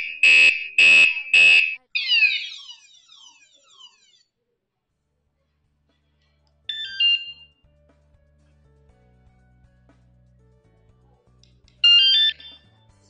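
KS-SF22R 113 dB electronic bicycle horn alarm, waterproof IP65, tested at volume level 7: three loud shrill pulsed electronic blasts, then a warbling sweep, with short chirps returning later over faint low background noise.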